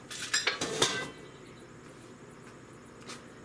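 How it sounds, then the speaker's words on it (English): Dirty dishes and cutlery clink and clatter close by as they are cleared away in a home kitchen after an Instant Pot meal. A quick flurry of ceramic and metal knocks fills the first second, then a single faint clink follows in quiet. "I'm just going to quick remove my dirty dishes here."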